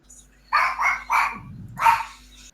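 A dog barks several times in a quick burst close by, with a low rumble underneath, during a Cards Against Humanity game night with people present.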